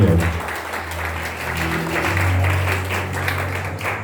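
Steady applause from an audience, a dense wash of many hands clapping that holds evenly throughout with a low hum beneath.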